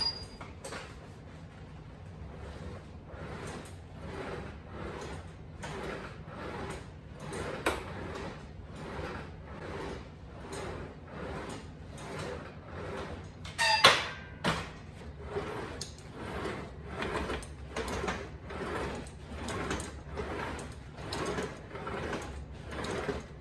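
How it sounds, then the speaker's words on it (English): A Syedee LP05 compact leg press with rollers running along its side rods, making steady, repeated rumbling and clacking strokes at close range, with a sharper metallic clank midway through a long, fairly quiet stretch and no talking. "it is on the louder side. That's because it uses rollers and it rolls along these rods on the side."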